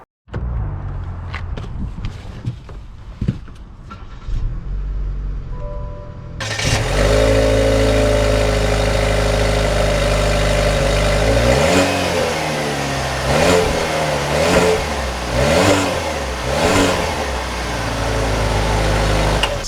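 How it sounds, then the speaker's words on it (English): A 2021 Buick Envision Essence starts up and pulls away, the engine rumbling then revving through several rising and falling accelerations, loud and close, with no talk. "Let's take her out and see how she drives."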